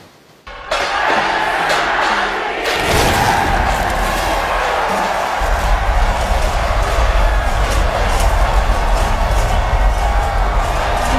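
A massive crowd fills the streets at the Rath Yatra chariot festival in Jagannath Puri, India, a loud continuous roar of voices and noise after a brief quieter start.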